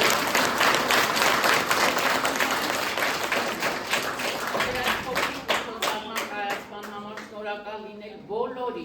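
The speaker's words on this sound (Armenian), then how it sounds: "Նորից ծափահարություն։" An audience at a school class performance in Yeghvard gives a long round of dense clapping. It starts strong and full, then thins into scattered individual claps that trail off toward the end.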